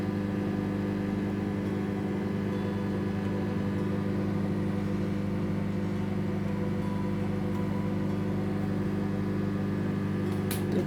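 A microwave oven heats tea with a steady, loud, unbroken mechanical hum and drone that holds evenly throughout, ending with a short click.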